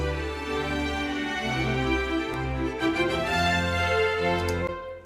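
A virtual orchestra plays longer staccato notes in a sustained, layered chord passage. The strings and brass are full and steady, with a soft tail at the end.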